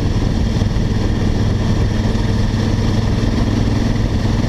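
Honda Africa Twin adventure motorcycle engine running steadily while riding solo on easy tracks, a continuous loud, close drone with constant engine rumble throughout and no talk.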